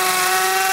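An Einhell TE-CD 18 Li-BL cordless drill in hammer mode bores into brick, giving a steady, close, high-pitched whine with a grinding rattle that runs unbroken through the short moment, with no voices.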